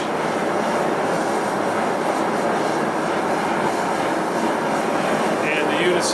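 A two-burner propane gas forge runs at about 5 pounds of regulator pressure, giving a steady, loud roar that holds unchanged throughout with no breaks.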